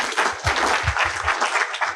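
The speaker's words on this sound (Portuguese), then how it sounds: "Uma salva de palmas." Audience applause at a family-farming agricultural modernization event, a dense, steady round of clapping from a crowd, fairly loud and heard on its own.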